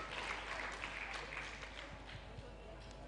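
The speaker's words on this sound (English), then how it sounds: "please give a very big applause to our 3 keynote speakers" A conference audience claps for keynote speakers at an academic event in Cirebon, Indonesia, a faint, steady patter of applause heard at a distance.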